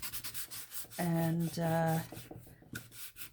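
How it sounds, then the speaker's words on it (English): A glossy postcard is scuffed with a sanding block in close, rhythmic rubbing strokes, with a brief humming tonal sound in the middle. "And I'm just using my sanding block."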